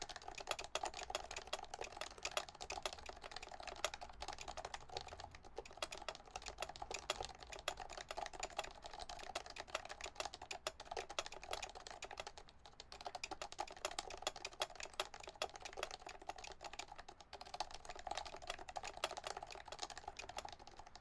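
A Taycan mechanical keyboard clatters under fast, continuous typing, close by but quiet, with dense irregular keystrokes and a few brief pauses throughout.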